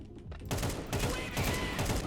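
A rapid burst of gunfire in a first-person shooter video game, several quick shots running together after a brief quieter start, fairly faint overall.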